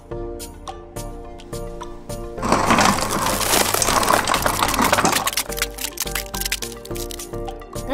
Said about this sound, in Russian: Наливаем все в стакан и еще раз измельчаем.